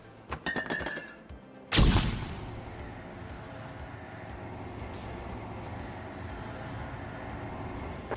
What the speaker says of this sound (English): Throw in flashbang.